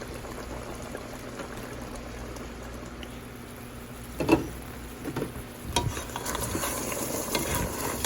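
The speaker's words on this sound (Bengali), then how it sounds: "বারবার নেড়ে চেড়ে দিচ্ছি যেন নিচের তলায় লেগে না যায়" Mutton pakki biryani being stirred in a pot over low heat, a steady bubbling simmer with intermittent scraping spoon strokes and knocks against the pot growing busier toward the end.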